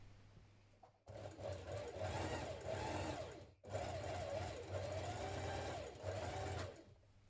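A sewing machine stay-stitching around the neckline of a tunic top's front and back pieces, running in two steady continuous bursts with a brief pause between, close and fairly loud with no talk.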